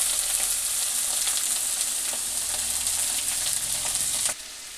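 Potatoes sizzle steadily in hot oil in a home kitchen pan, a loud, close, continuous hiss that keeps up evenly and then drops off sharply near the end.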